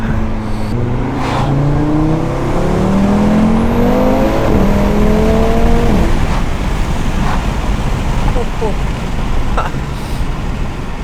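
An Audi RS3 five-cylinder turbo fitted with a carbon fibre intake revs up through several climbing pulls at close range, then drops back to a rough, throaty idle with faint intake whooshes.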